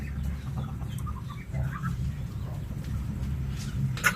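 Brooding hens clucking in a farmyard: soft, intermittent low clucks and murmurs under a steady rumbling background, with a sharper call near the end.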